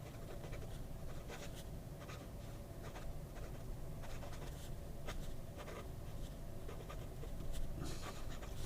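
Scratchy strokes of a Hongdian fountain pen with an architect nib moving across paper, close and quiet, with irregular short scratches and longer drags repeating steadily throughout.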